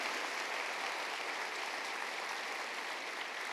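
A church congregation applauds with a steady, dense wash of clapping that fills the room at an even level, with no speech over it.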